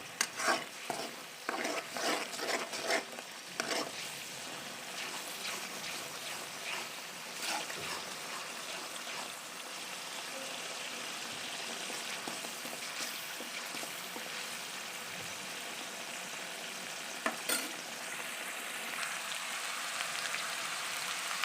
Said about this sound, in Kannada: ಅಲ್ಲಿವರೆಗೂ ಸ್ವಲ್ಪ ನೀಟಾಗಿ ಎಣ್ಣೆಲಿ ರೋಸ್ಟ್ ಮಾಡ್ಕೋಬೇಕು.